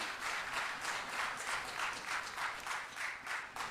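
Applause from a church audience, many hands clapping in a soft, steady, somewhat distant patter throughout, fairly quiet overall with no speech.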